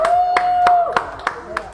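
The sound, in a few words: applause for La Crianza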